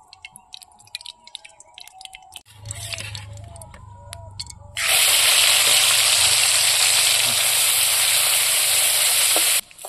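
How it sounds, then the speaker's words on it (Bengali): Fish frying in hot oil in a wok, a loud, dense sizzle bursting in about halfway through and holding steady, after quieter clatter and a low hum. "কড়াই বসে দিয়েছি, মাছ ভাজার জন্য তেল দিয়ে দিলাম।"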